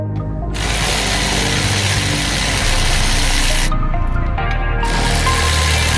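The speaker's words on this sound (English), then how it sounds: "So let's go ahead and swap out the tires." Continuous mechanical ratcheting and whirring from a ratchet swapping car tires, loud and close, with a brief drop around the middle before the grinding resumes; no talking.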